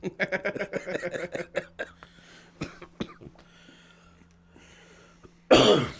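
A run of rapid, hacking coughs from a person close by, breaking into throat clearing and a few scattered rough coughs, then a sudden loud burst of breath at the end.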